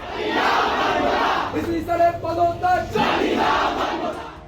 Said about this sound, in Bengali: বিক্ষোভে ফেটে পড়ে শিক্ষার্থীরা এ সময় তারা ভিসির পদত্যাগ প্রত্যাহারের দাবি জানিয়ে নানা রকম স্লোগান দিতে থাকে